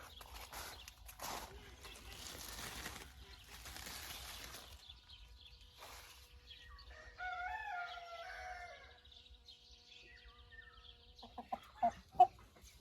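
Roosters, hens and chicks on a farm cluck and call in bursts, with a stretch of clearer bird calls midway and a few sharp knocks near the end, while a voice speaks over parts of it.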